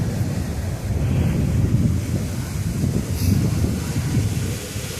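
Steady wind buffeting the microphone, a continuous low rumble with gusty swells and no voices.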